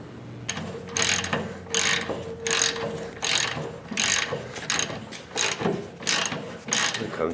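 Ratchet wrench tightening a bolt on a Dodge Ram 2500 Cummins leaf spring, about nine steady, loud bursts of clicking pawl strokes with a faint low hum underneath.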